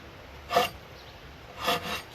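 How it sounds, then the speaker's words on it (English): Two rough, rasping strokes of a hand rasp scraping across wood, close and distinct, separated by a short quiet pause. "Next step is some hand carving."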